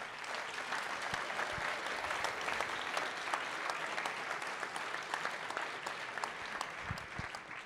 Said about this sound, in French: On peut tous encore vous applaudir